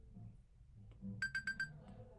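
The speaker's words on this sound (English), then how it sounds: "I hear you, alarm clock." An alarm clock sounds with four quick, shrill electronic beeps in a row, close by and fairly quiet, following a stretch of low background rumble.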